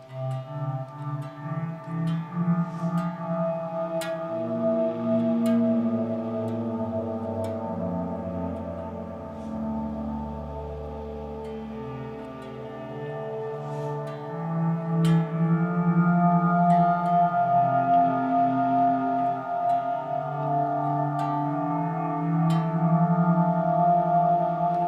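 Electric guitar swells made by fast single-finger hammer-ons blur into long violin-like tones under a swirling modulation effect, with a steady, sustained, moderately loud wash and faint pluck attacks, played alone.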